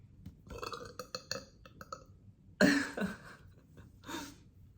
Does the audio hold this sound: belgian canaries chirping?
no